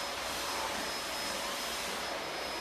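A household vacuum cleaner runs in another room, a steady, faint whooshing drone with a thin whine, unbroken and alone.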